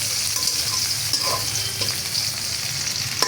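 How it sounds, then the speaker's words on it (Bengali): Chopped garlic frying in white oil in a wok, a steady, loud, dense sizzle throughout, with a few faint scrapes of stirring over the top. "এখন আমি কড়াইয়ের মাঝে সাদা তেল দিলাম, রসুন কুচি দিলাম।"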